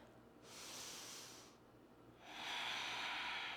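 A slow, deep breath taken during gentle seated chair yoga: a long airy inhale, a short pause, then a louder, broader exhale, close to the mic with no talking.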